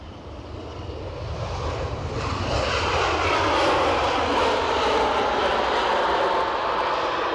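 An Air Canada airliner departs Edinburgh Airport, its jet engine roar building from moderate to loud and holding steady as it climbs away.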